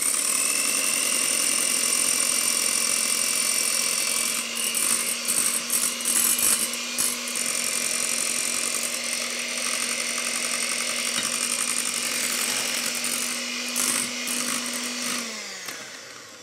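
An electric mixer with its whisk running steadily as it beats meringue while sugar syrup is poured in, making a loud, continuous mechanical whirring drone with a rattling edge that winds down and stops near the end.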